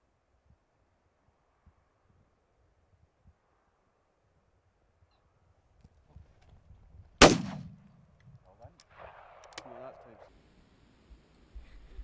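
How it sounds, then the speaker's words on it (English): A single loud shotgun blast fired at rabbits while ferreting, using Eley cartridges, rings out sharply outdoors after a quiet stretch, followed by rustling, handling noises and faint movement. "The shooters are soon feeding the shotguns a rapid diet of Ely cartridges and rabbits go down one after another"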